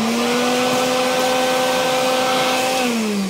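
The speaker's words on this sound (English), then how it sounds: "So I'm gonna go ahead and clean the rest of the inside of this, vacuum it all out." A Craftsman 5-gallon bucket shop vac with a 1.75 hp power head vacuums a car interior, its steady loud whine droning continuously close by, with a slight drop in pitch at the end.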